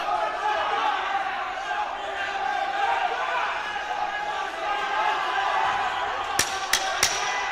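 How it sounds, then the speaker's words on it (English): A crowd at a youth MMA championship roars steadily in appreciation, a dense wash of cheering that holds throughout, with an announcer talking over it and a few sharp thuds near the end. "The crowd roaring their appreciation for their man."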